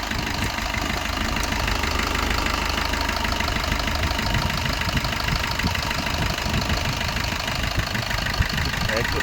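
A 2017 Maruti Swift Dzire VDI idles steadily and evenly up close, with someone talking over the continuous engine hum.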